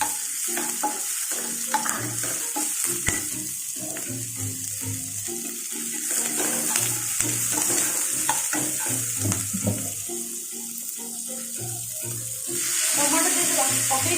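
Chopped onions cook in a pan for an Indian veg thali, with a steady sizzle, occasional stirring clatter and watery hiss running continuously throughout.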